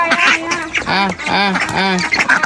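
Several loud, nasal duck quacks close by at a village home, coming in quick repeated bursts one after another.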